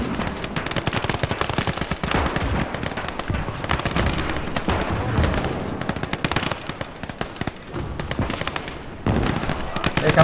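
Heavy artillery fire in Call to Arms: Gates of Hell, a winter war battle: loud, dense rolling blasts and rapid gunfire pound almost continuously, with brief dips before the barrage surges again.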